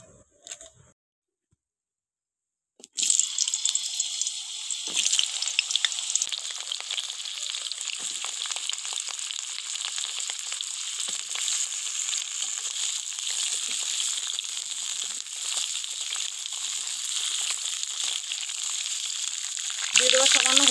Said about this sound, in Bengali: এবার কড়াই গরম করে আমি আগে পটলটা ভেজে নেব।